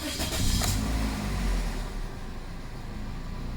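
A 2005 Toyota Corolla engine cranks and catches with a loud, close burst, then settles into a steady idle rumble for the rest of the stretch, with no talk.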